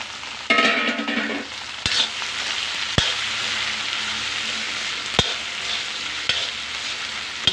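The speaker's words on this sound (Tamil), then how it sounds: "வெண்டைக்காவை சேர்த்துக்கிறேன்" Small-cut okra tipped into a hot pan and stirred, a loud sustained frying sizzle with periodic sharp spatula knocks against the pan.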